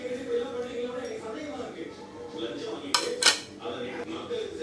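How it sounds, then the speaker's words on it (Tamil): Garlic chutney masala is mixed in a bowl with a spoon, soft scraping and clinking of utensil against the dish, with two sharp clinks near the three-second mark, while someone talks. "இப்போது எடுத்து வச்சுருந்த மசாலா எல்லாத்தையும் ஒரு பவுலில் போட்டு நான் மிக்ஸ் பண்ணிக்கிறேன்."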